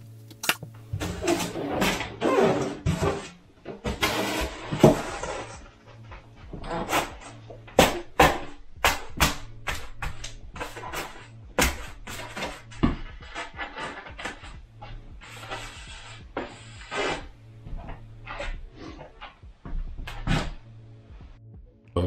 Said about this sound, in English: Remember what I said earlier about squeaky polyiso?